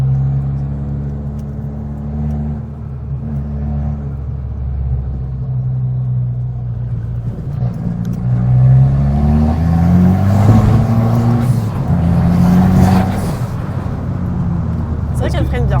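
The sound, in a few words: Abarth 595 car engine revving high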